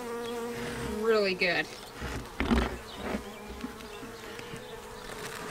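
Honeybees at a hive hum in a steady, dense drone close by, with a voice speaking briefly over the buzzing near the start.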